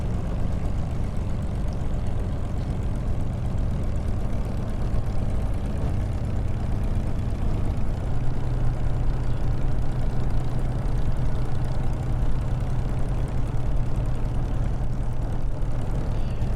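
An aircraft engine idles on the ground in Microsoft Flight Simulator, a steady, dense low drone with a faint hum above it that holds unchanged for the whole stretch, loud and close with no voices.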